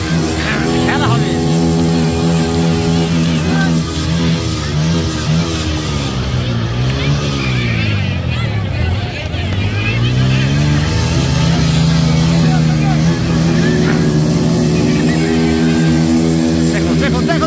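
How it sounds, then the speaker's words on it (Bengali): Three motorcycles roar at a stunt show, their engines rising and falling in pitch as they circle, loud and continuous, with crowd chatter and a voice talking throughout. "তিনটা মোটর সাইকেল একটা ম্যান বাহুবলী"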